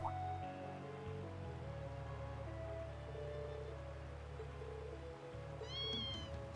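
A cat meows in the video game Trails of Cold Steel II, a short run of rising and falling calls near the end over steady game music and ambient background.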